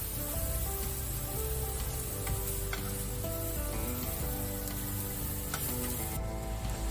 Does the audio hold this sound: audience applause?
no